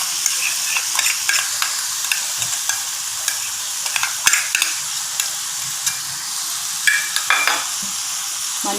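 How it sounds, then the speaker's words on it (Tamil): Roasted, ground masala stirred into boiled mutton tripe in a pan, with steady sizzling frying and repeated scraping stir strokes close by, no talk. "இப்போ வறுத்து எல்லாம் அரைச்சி வச்சுருக்கேன்,"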